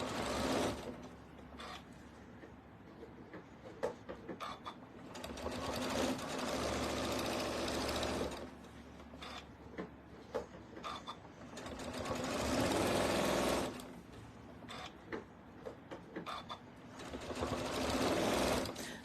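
A sewing machine stitches a roll-up cork organizer in several bursts of steady whirring, pausing between runs, fairly close and moderately loud with no talking.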